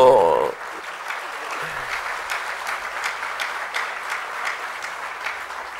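A congregation at a Sunday school service breaks into steady applause right after a voice cuts off, a busy continuous clatter of many hands at moderate volume that carries on to the end.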